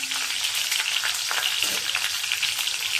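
Green chillies hit hot oil with mustard seeds and cumin for onion uttapam, giving a continuous, close, bright sizzle and crackle with no talk.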